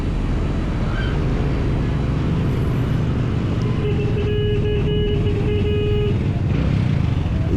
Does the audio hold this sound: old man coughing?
no